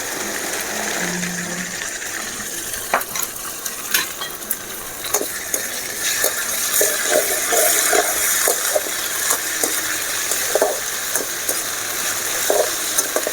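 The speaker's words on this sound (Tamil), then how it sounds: "இப்போ நம்ம இந்த இஞ்சி பூண்டு பேஸ்ட்டு இதில் போட்டுக்கலாம்" Ginger garlic paste fries in hot oil in a pan for a squid fry, a continuous loud sizzle broken by repeated scraping and stirring clicks throughout.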